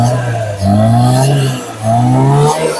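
A car engine revs twice after a throttle sensor repair that was meant to cure backfiring and sneezing, with rising harmonic sweeps of throttle blips separated by a brief dip back toward idle.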